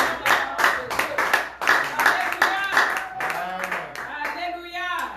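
A church congregation claps in a steady rhythm during a worship service. The clapping mixes with singing, talk and background music, fairly loud and close.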